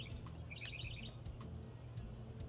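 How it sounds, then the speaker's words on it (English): Small birds chirp outdoors in a home garden, a quick cluster of high tweets followed by a few scattered calls, faint and somewhat distant over a low background hum with no talk. "Do you guys hear the birds?"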